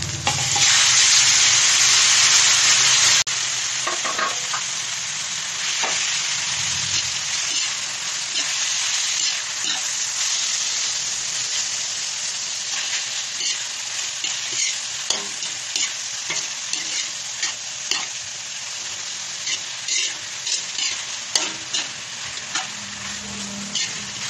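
Chicken goes into a pan for pancit bihon and fries with a loud, bright hiss at first, then settles into a steady sizzle with frequent spatula scrapes and knocks as it is stirred, close by and without talk.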